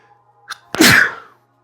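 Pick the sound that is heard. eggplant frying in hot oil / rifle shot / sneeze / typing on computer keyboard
sneeze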